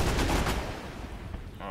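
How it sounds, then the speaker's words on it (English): Loud bursts of gunfire from the video game Arma 3, rapid shots crowded together at first, then fading into a rumbling echo. "I can see the gunfire"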